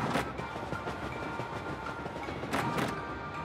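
Train rumble and rattle while riding aboard a train in the video game Paper Mario: The Thousand-Year Door, a steady rolling noise with a couple of brief clacking bursts, no voices.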